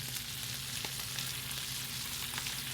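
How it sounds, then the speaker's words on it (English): Buttered bread sizzles and crackles steadily as it toasts in a hot pan for a breakfast sandwich, a close, continuous fry with a few small clicks and no talk. "I'm just going to butter the bread up, put it in a hot pan. We just want to toast it."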